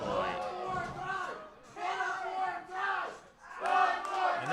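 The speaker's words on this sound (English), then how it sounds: "this bloodthirsty Monster Factory crowd, you give them one chop like that" Bloodthirsty wrestling crowd at a Monster Factory event roaring and yelling after a chop, loud waves of massed voices swelling three times with shouted cries rising over the din.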